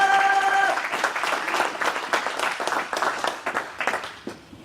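At an ordination service a congregation applauds to acclaim the Lord, dense clapping from many hands that is loud at first and thins into scattered claps, with a voice briefly heard over the start.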